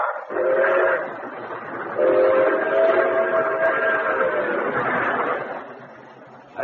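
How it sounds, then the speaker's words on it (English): A train rushing past in a radio-drama sound effect, a loud steady rumble and rattle with whistle-like tones rising and fading across several seconds, no voices. "day and night great trains rush toward the Hudson River"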